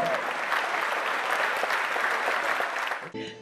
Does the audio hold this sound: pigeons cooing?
no